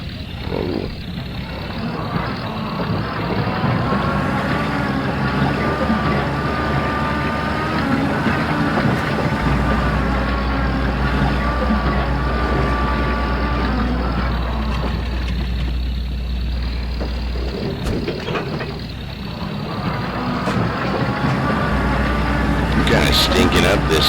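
Truck engine in the MudRunner off-road game drones and labors on a muddy climb, a steady loud low rumble with shifting RPM over about twenty seconds, with someone talking over it.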